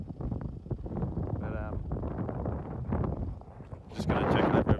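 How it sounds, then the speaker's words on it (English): Wind buffeting the microphone at Steep Point, a coastal lookout on Australia's westernmost mainland tip. Low gusty rumble runs under close talking and swells to a louder broadband rush near the end. "sorry about the wind again, yeah"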